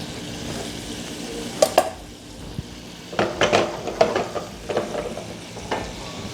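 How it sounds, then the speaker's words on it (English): Onions sizzle in hot, frothy butter under a soft, steady frying hiss, punctuated by several sharp clinks and scrapes of a utensil stirring against the pan. "So my butter is nice and frothy. I'm going to drop in my onions."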